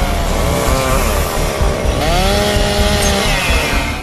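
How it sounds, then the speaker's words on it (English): Chainsaws cutting off branches from a fallen tree during a rescue, a loud, close, continuous buzzing whine that rises and falls in pitch as the engines rev through the wood. "then brought chainsaws to cut off the branches"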